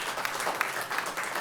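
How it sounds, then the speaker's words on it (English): Audience at a school board of education meeting claps for a group of presenters: a short, steady burst of many hands at moderate level, with no voices over it. "please give a round of applause for them"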